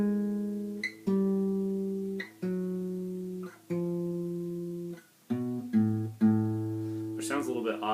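Acoustic guitar bass notes from a song, plucked one at a time alone: a slow descending line of about seven sustained, ringing low notes, each struck cleanly and left to decay, ending with a brief higher strum.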